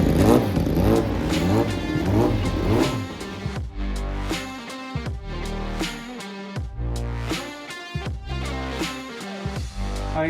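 Race cars lapping Cadwell Park circuit, engines loud and close, revving hard with repeated rising and falling passes and gear changes, no talking.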